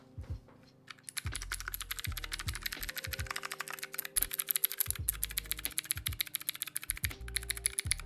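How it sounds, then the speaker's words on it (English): Rapid clicky typing on a mechanical keyboard with Razer Green switches, with numpad entry, sharp close key clacks in fast uneven bursts over a faint steady hum. "Yo, Zoo, did you miss my typing test with the numpad?"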